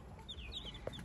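A mother hen clucks softly and faintly among thin, high chick peeps, ending with one short louder cluck.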